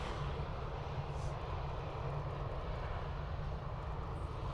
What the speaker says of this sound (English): Some serious climb out. Aer Lingus A320 off to Bilbao.